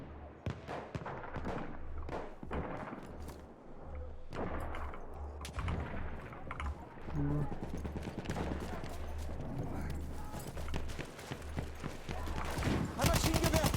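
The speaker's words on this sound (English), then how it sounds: "Ein Maschinengewehr!" Rapid bursts of machine gun fire in a combat video game, repeated rattling volleys and scattered shots over a low rumble, fairly loud and continuous with short pauses, a voice speaking faintly beneath.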